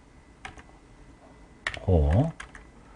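Typing on a computer keyboard, including a press of the Korean/English key, with a few quick key clicks and a voice speaking partway through.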